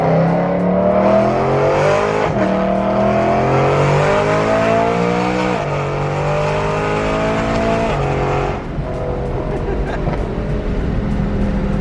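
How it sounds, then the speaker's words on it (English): A BMW E92 M3 engine runs loud and close, its droning note sweeping up and down through several rising revs and gear changes, with tire and road noise underneath. "I forget how loud this freaking car is"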